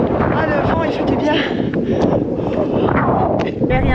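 Strong wind buffets an anchored sailboat in the Baie des Vierges, a steady, loud roar of gusts pressing on the microphone throughout, with no lull.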